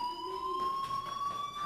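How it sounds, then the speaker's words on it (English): A school fire alarm in the video game Life is Strange rings with a loud, steady electronic tone that holds unbroken throughout, with no voices over it. "Hey, do you hear that fire alarm? That means you should be outside."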